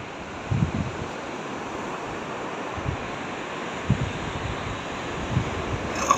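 Sea waves washing onto a beach, a steady broadband surf roar with occasional low thumps of breaking waves and wind buffeting the microphone, no talking.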